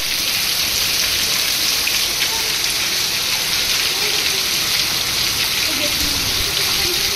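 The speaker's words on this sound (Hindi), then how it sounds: "तो कल बारिश हुआ था गैस, तो उसका क्लिप है," Rain falls steadily in a dense, even hiss that stays loud and unbroken throughout, with faint background sounds beneath it.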